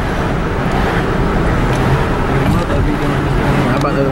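Steady, loud wind and road roar fill the cabin of a 2007 Ford Five Hundred while it drives, an unbroken rushing wash with no pauses.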